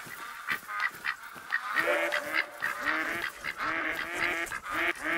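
Ducks in the hunting video game theHunter: Call of the Wild give repeated nasal quacks and honks, a flock calling steadily and fairly close over soft background ambience.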